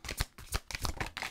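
Oracle cards being shuffled and drawn in a love-themed tarot reading, a quick series of crisp riffling flicks heard up close and alone.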